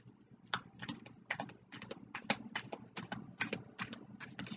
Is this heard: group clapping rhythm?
no